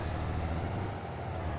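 A truck in Farming Simulator 22 rumbles along with a steady low engine drone, a brief air-brake hiss riding over it, continuous and fairly close with no talking.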